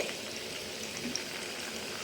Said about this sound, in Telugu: ముందుగా కలిపెట్టుకున్న పసుపు ఉప్పు నీళ్ళు దీంట్లో అయితే పోసుకోవాలి